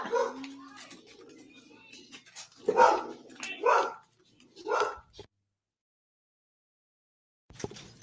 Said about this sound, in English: Why the fuck are you barking, dog?